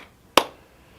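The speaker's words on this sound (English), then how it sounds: "clap your hands" A single sharp clap during a children's action song, one crisp loud hit with a short decay and near silence around it.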